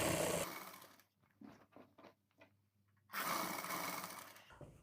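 Sewing machine stitching a suit collar, loud whirring bursts at the start and end with a quieter stretch of short mechanical clicks and runs between, heard close with no talking.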